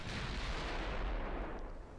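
Warship naval guns firing in the Ultimate Admiral Dreadnoughts naval battle game, heard as a deep booming artillery blast that rolls and fades over about two seconds, with no talk.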